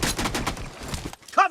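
Shotgun fire in BGMI during a warehouse team deathmatch, a rapid string of sharp, close blasts that stops abruptly, followed by a short electronic game tone.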